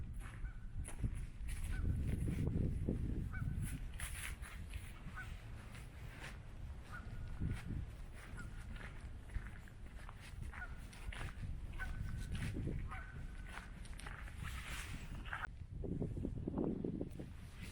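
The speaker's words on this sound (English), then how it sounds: "there's geese out there. I could hear them." Geese honking off in the distance on Lake Irena in northeast Pennsylvania, scattered calls over a steady outdoor background with some rustling and footsteps nearby.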